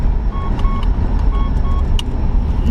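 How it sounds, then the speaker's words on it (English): Vehicle beeping, faint intermittent short high tones over a loud rumbling engine and road noise. "annoying beeping."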